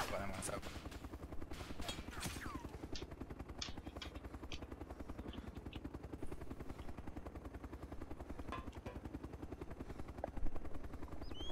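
Helicopter in DayZ Epoch during a player base raid, a steady rapid rotor chop at the low end running throughout, with occasional sharp shots and brief talk over it.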